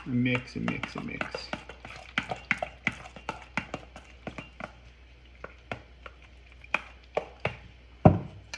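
Ricotta and egg are stirred together for a lasagna filling, with a spoon scraping and tapping against a bowl in irregular soft knocks and a louder clunk near the end.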